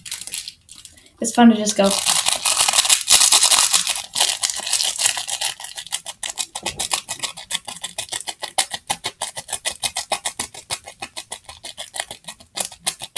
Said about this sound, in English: It's just a piece of paper stuff. But it's fun to crunch up.